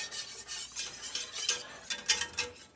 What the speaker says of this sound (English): So you're going to put equal amounts of flour to butter. And give it a stir.